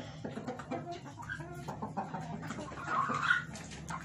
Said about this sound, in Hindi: ये हमारा व्हाइट मुर्गा है।